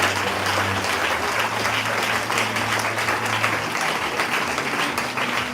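A church congregation applauding in praise during a service, dense sustained clapping from many hands filling the space at a steady level throughout.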